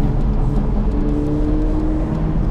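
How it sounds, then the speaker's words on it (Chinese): A Ferrari F8 Spider's V8 rumbles at steady low revs from the exhaust, a loud deep continuous drone with a faint whirring layer and no voices over it. "重点是这个排气声浪其实很好听一下，虽然没有那个高亢的 Ferrari 的声浪"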